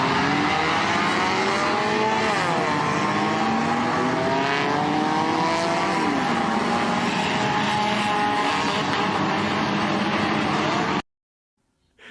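Around a hundred race cars roar together through a 100-lap enduro race, a loud continuous engine drone with shifting pitch sweeps as cars pass, and no talk over it, before it cuts to silence at the end.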